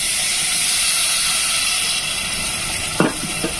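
Tamarind juice hitting a hot pan for spicy fish curry, a steady loud sizzling hiss that holds for about three seconds, followed by a few brief clinks.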